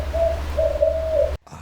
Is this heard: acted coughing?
no